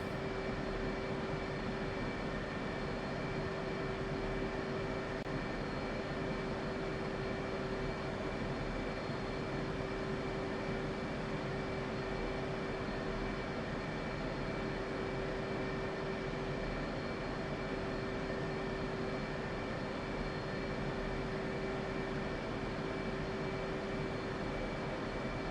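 A jet aircraft taxiing in the DCS flight simulator, a steady, unbroken engine whine and rumble that holds one pitch throughout, moderately loud and close, with no talking over it.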